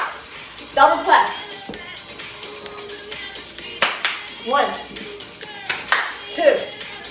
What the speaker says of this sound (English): Give me that clap. Double clap.